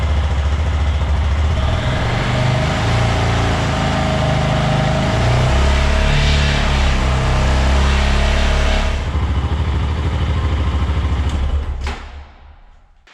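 A motorcycle engine held at high revs, around 5000 rpm, during a charging-circuit check gives a loud, steady, close drone that runs continuously and then drops away as the throttle is released near the end.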